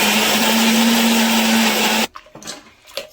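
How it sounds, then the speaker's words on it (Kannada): A mixer grinder grinds coconut in a loud, steady whir lasting about two seconds before it stops sharply. Faint kitchen handling noises follow. "ಮಿಕ್ಸಿ ಮಾಡ್ಕೋತೀನಿ."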